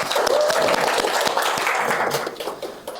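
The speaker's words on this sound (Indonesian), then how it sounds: "mari kita beri tepuk tangan" Classroom applause for quiz winners, a brief burst of many hands clapping that starts loud and tapers off over a few seconds, with a faint voice mixed in.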